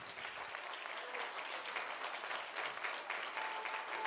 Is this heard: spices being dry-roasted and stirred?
no